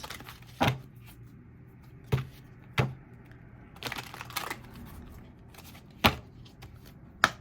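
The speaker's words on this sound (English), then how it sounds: "Just going to shuffle it 3 times." Tarot cards being shuffled give a few sharp, separate riffling snaps spaced irregularly across a quiet room, with no voices.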